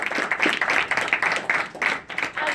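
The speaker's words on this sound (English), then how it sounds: "Let's go ahead and give them a round of applause." Conference audience applauding after a blockchain product unveiling, a short burst of scattered hand clapping from a crowd in a hall.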